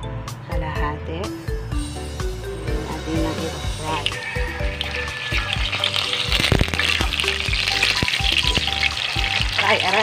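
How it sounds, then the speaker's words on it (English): Tofu (tokwa) frying in hot oil for vegetable spring rolls, a bright crackling sizzle that builds and grows denser, with clattering utensil knocks and stirring up close. "Ito, ipapry natin yan. Ang tokwa. Ipapry natin."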